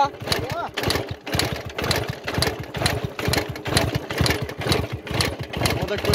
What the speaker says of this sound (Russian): Смотрите, как он кикует его, как электростартер